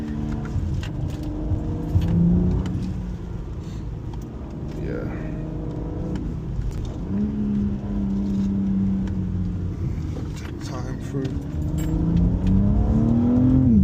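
A BMW M4 Competition's engine pulls and revs on a winding California road, a deep, strong drone rising and falling with gear changes, heard from inside the cabin under someone talking.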